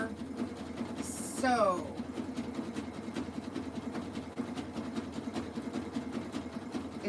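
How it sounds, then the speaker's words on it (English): A sewing machine stitching jelly roll rug strips runs with a steady low mechanical hum and a regular needle ticking, while a person talks over it. "Oh, I've just sewn off the edge here."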